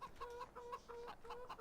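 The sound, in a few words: chickens clucking in video game Farming Simulator 17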